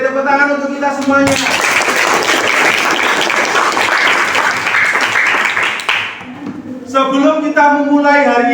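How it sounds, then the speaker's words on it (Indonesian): A class of children clapping together in a burst of applause lasting about five seconds, loud and close, with an adult voice speaking just before and after it. "Oke, tepuk tangan untuk kita semuanya."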